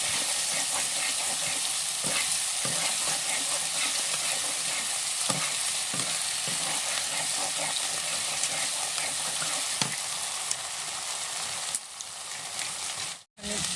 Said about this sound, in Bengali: টমেটোর মধ্যে মশলাটা দিয়ে দিলাম, নাড়াচাড়া করে তারপরে জিরা মশলাটা দেবো।